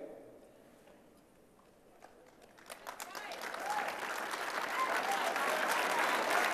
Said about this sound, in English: I mean, that is the applause line.